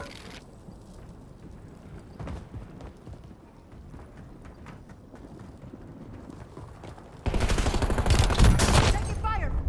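Gunfire in the video game Warzone crackles softly in the background, with scattered distant shots, then a loud, dense burst of rapid shooting breaks in near the end.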